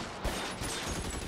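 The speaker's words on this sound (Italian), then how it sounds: "È importante urlare mentre spari con una mitragliatrice." Machine gun fire from the video game L.A. Noire, a short dense burst of rapid automatic shots blending into a loud continuous rattle.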